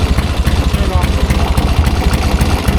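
A 1972 Triumph 650 Bonneville motorcycle engine runs rich and rough, a loud close lumpy idle with uneven pulsing beats that rise and fall irregularly.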